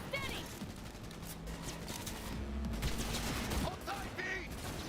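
Gunfire in the Cyberpunk 2077 video game during a vehicle chase: rapid bursts of shots crackle throughout, mixed with engine noise and shouting voices.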